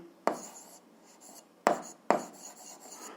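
A pen scratches out algebra solutions on paper in three short bursts of writing separated by pauses, close and quiet.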